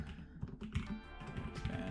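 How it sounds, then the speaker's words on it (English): Quick, irregular clicks of typing on a computer keyboard sound close and fairly soft, arriving in short bursts without any speech. "Typing is hard."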